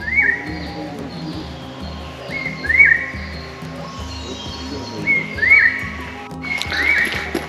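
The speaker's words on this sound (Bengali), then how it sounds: "পাখির ডাক শুনতে পাচ্ছেন।" Birds call in a quiet forest around a hill village near Kalimpong: four or five short whistled calls repeat every couple of seconds over a steady low rumbling background.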